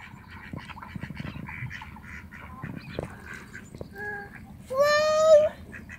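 Ducks being fed by children at the water's edge, with several honks and quacks, one loud rising call standing out near the end over outdoor background noise.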